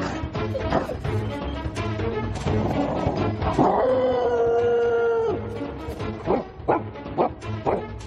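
A Tibetan mastiff barks and whimpers in a rapid, close series, with a long drawn-out howl-like whine in the middle before the short barks return.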